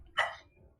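A single short dog bark, fairly close but modest in loudness, sounding once in a quiet room.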